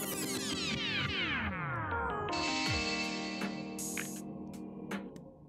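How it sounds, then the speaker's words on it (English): Music slows down through a Logic Pro slow-down effect on an audio file, its pitch sliding steadily downward like a tape grinding to a halt, then higher bright tones return over continuous sound. "a really cool way to create a slowdown effect in Logic Pro"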